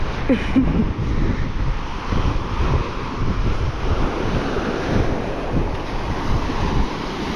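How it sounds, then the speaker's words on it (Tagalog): Strong ocean waves in the Babuyan Channel off Cagayan, Philippines: a loud, constant roar of surf mixed with heavy wind buffeting the microphone, continuous throughout with no talking. "Malakas ang alon."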